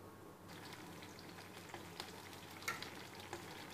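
Green chillies roast in a pan over low flame with a faint, steady crackle and a few soft pops, quiet and close, with no talking.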